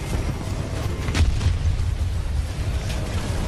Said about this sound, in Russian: Просто внезапный взрыв.